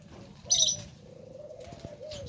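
White doves for sale in Jamaica give a soft, low coo, with a brief burst of chirping and faint background bird sounds around it.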